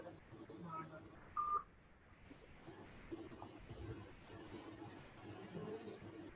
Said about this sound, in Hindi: मैंने टेलीफोन किया है उनको